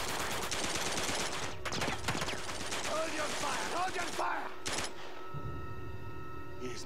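Gunfire in the video game Uncharted 2, with sharp bursts of shots cracking through a busy battle mix, some rapid volleys, while voices shout over the action.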